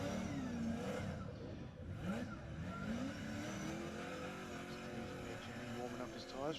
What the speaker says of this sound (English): Warming up his tyres for his next battle